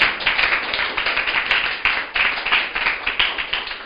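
A church congregation claps together in praise, a steady near rhythm of hand claps with slight rhythmic pulses, filling the room without speech over it.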